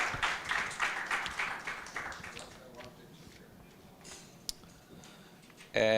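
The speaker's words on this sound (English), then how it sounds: "Let's give them a round of applause" Audience applause at the SEEDIG 8 annual meeting, a short burst of clapping at the start that fades over a couple of seconds, followed by quieter room noise, a sharp tap and a final electronic tone.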